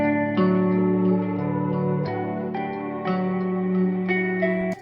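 Sustained electric guitar notes run through a Guitar Rig effects preset, layered chords ringing with echo and reverb, new notes entering every second or so at a steady, full level with no voices.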